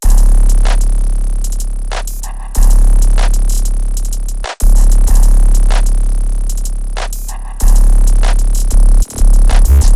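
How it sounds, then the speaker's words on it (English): A programmed ambient supertrap-style drum beat plays loud and alone, with booming low bass hits, crisp rapid hi-hats and snappy claps in a steady groove, cutting out briefly. "this is what the drums sound like all together"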